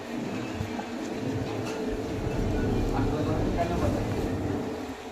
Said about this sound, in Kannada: ಆಟೋ ಬರ್ತಾ ಇದೆ ಅಲ್ಲಿ ಕಾಣ್ಬೋದು ನಿಮಗೆ